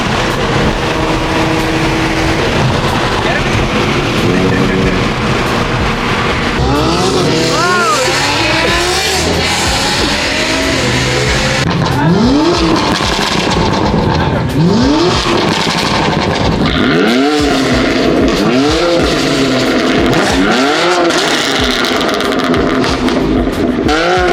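Two Nissan R35 GTR sports cars driving together, engines revving hard through repeated rising acceleration sweeps and gear changes, loud and close for the whole stretch, with voices talking over the engine noise.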